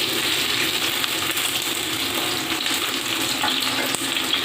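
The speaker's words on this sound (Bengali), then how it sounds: "তেলটা আমার গরম হয়ে গিয়েছে। এবার আমি দিয়ে দেব কুচনো পেঁয়াজ।" Chopped onions hit hot oil in a pan while cooking ghugni, giving a loud, close, continuous sizzle and hiss with no talking.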